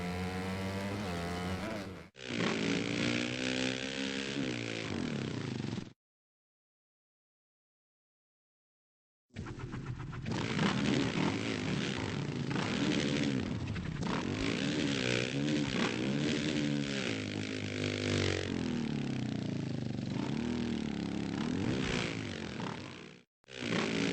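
Engine of a 450F dirt bike in the video game MX vs ATV All Out, revving loudly and repeatedly with rising and falling pitch, broken by a few seconds of silence midway.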